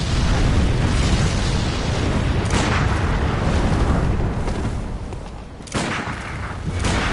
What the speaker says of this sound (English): You can shoot the flower.